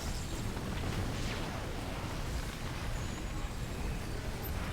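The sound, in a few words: ion cannon blast in the video game Command and Conquer 4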